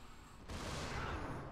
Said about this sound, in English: something's about to explode